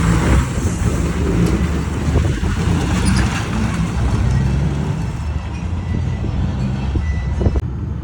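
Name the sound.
Next Gen car driving out of a gas station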